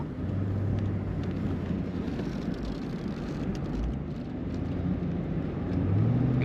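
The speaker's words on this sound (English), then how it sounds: "Smooth ride out of this Corvette." A 2004 Chevrolet Corvette convertible cruising on the road, a steady low engine hum and road rumble with wind noise, rising slightly near the end, with no talk.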